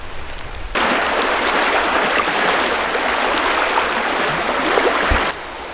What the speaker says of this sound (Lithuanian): Čia yra toks upės susiaurėjimas, kur gan nemaža srovė.